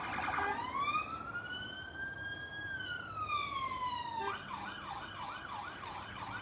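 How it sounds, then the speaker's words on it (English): A siren wails past, rising and falling in a long sweep before switching to a rapid warbling yelp, loud and close over steady road noise. "you're going to get a siren going past,"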